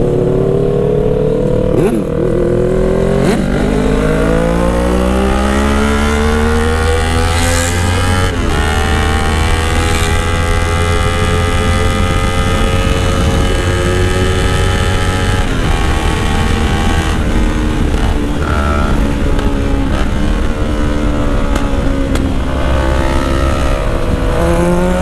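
A Kawasaki Z1000 motorcycle engine revs hard and close by, its loud, rough roar rising and falling continuously with brief crackling pops throughout.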